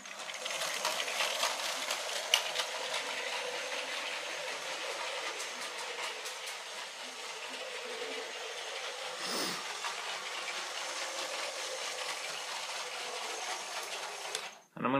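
A Lego 7938 passenger train runs around its plastic track, a light continuous whirring and clicking of small gears and wheels with rhythmic ticks over rail joints, close by and fairly quiet until it stops at the end.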